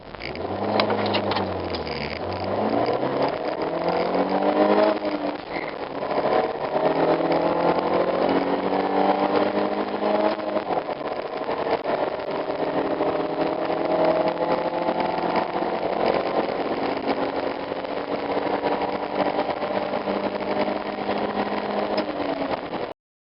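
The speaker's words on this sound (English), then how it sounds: "this is going to be your typical 4-cylinder acceleration." A typical four-cylinder car engine with a gutted exhaust modification, revving up from idle with a rising, falling drone, then settling into a steady hum held at moderate revs, close and loud with no talking.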